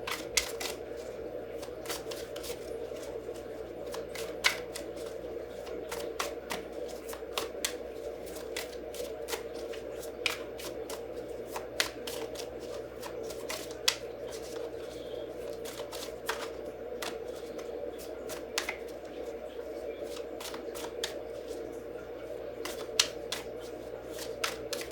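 A tarot deck shuffled steadily at close range, with crisp rapid card riffles and snaps repeating throughout over a low steady background hum.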